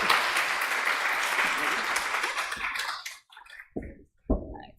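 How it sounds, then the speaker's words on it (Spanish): Applause for a doctor at the close of a talk at an international chemistry postgraduate congress in an auditorium, a dense burst of clapping that fades out after about three seconds, followed by a few close handling knocks. "Un aplauso a la doctora, gracias."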